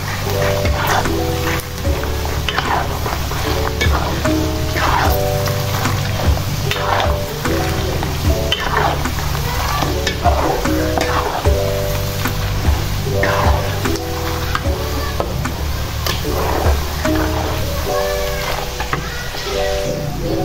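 Garlic peanuts fry in a pan with a steady, even sizzle, and a utensil scrapes and clacks as they are stirred, repeating rhythmically throughout at close range.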